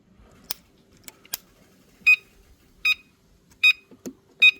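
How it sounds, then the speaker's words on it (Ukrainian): Short electronic beeps from an electric bicycle being folded repeat at a steady interval, four clear tones over a few faint clicks and handling noises nearby. "Щось пищить."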